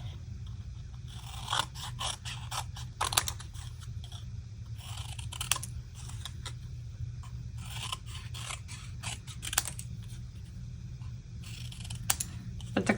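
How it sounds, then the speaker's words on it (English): Scissors snip through paper card pieces in a quick, irregular series of crisp cuts and scrapes, close to the microphone over a low steady hum, with no voice. "just going to trim them out with scissors"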